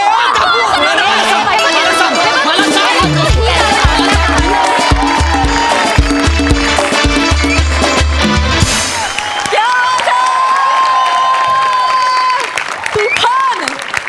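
A studio audience at the Marathi comedy show Maharashtrachi Hasya Jatra stands and applauds loudly, with cheering and crowd chatter that fill the room for the whole stretch, while voices and musical tones sound over it.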